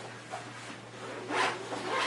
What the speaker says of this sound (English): It's got a nice little quick access zipper here